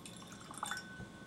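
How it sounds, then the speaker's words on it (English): A little water is added to a glass of Hibiki 21 whisky, giving a faint, brief drip or trickle in a quiet room with no talking. "I'll add just a little bit of water and see what happens."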